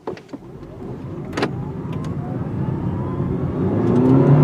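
A 2018 Honda Clarity plug-in hybrid accelerating hard, pitch rising steadily, a continuous motor whir building in loudness, with a few brief clicks near the start.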